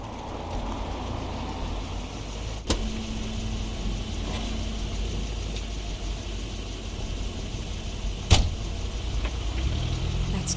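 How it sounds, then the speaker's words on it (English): A car pulls up in the video game The Wolf Among Us, heard as a steady engine rumble with idling under a dense noisy ambience, plus a couple of sharp clunks like a door or mechanism. "That's Crane's car."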